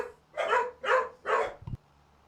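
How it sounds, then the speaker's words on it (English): Dogs bark in the background of a home: three sharp, loud barks in quick succession, then a brief yip, with no one talking. "I do apologise for the doggos barking in the background."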